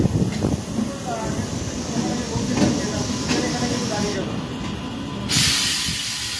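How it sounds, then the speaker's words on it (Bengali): A passenger train runs toward Krishnanagar, with a steady, close rumble and hiss of the wheels on the rails heard from inside the carriage, rising slightly near the end. "একটা কার নিয়ে আমাদের ট্রেন চলেছে কৃষ্ণনগরের পথে"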